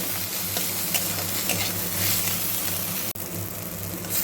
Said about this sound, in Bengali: যতক্ষণ না টমেটোটা নরম হচ্ছে ততক্ষণ আমি এইভাবে হালকা হালকা করে ভাজা ভাজা করে নেব